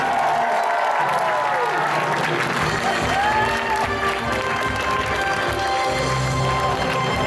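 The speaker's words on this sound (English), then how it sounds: "Let's give him a round of applause." An audience at an anime convention game show claps and cheers loudly and steadily throughout, a dense wash of applause with no pauses.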